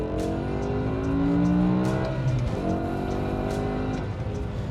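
A 2005 BMW M5 (E60) V10 engine revs hard and continuously toward about 8,000 RPM, its high-pitched exhaust note climbing, then dropping and climbing again through gear changes.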